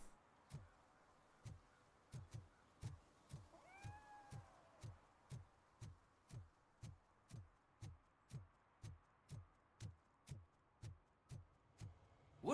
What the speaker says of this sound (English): we got this little cat meowing on the side